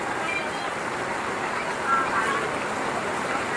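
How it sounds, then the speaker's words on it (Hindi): Heavy rain falls in a village, a constant broadband hiss of downpour that fills the whole clip at an even, moderately loud level with no other clear sounds. "इस बारिश होने लगी बहुत भयंकर"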